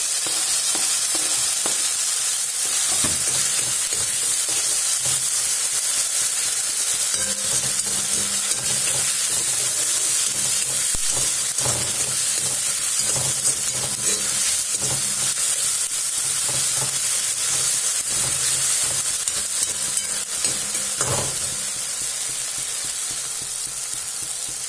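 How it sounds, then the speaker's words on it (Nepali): Tomatoes frying in hot oil while being stirred, a loud, dense, unbroken sizzle lasting a long stretch, with occasional scraping strokes of a spoon and no talking. "यसलाई गोडभेडालाई पनि एकछिन नपाकुन्जेल मजाले चलाइरहनु पर्छ।"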